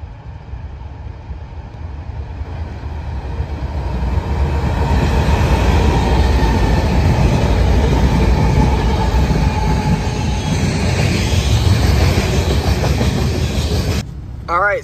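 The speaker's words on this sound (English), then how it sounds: "So we just got that train that was 66X," A long freight train rumbles past nearby, a continuous heavy roar of wheels and cars with faint clacking, ending in a brief high metallic squeal.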